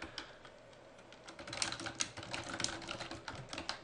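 Rapid typing on a computer keyboard, close and steady key clicks with a few louder strikes, no talking.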